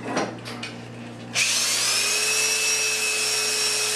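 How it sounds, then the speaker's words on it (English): A power sander, more aggressive than a portable sander, smooths tool marks out of a wooden workpiece. It starts up abruptly with a loud, steady high whine and runs continuously close by after a few faint knocks. "This is a little more aggressive than the uh, portable sander."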